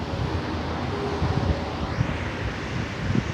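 Cachoeira Grande waterfall in Serra do Cipó, Brazil, gives a steady, dense roar of falling water that stays loud and continuous throughout with no voices.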